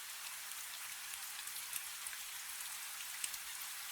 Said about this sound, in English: the rain on the roof is only the rain